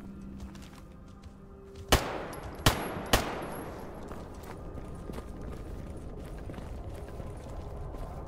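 Three sharp gunshots crack out in quick succession in Stalker GAMMA, fairly distant and quiet, each leaving a rumbling echo over a low, steady background.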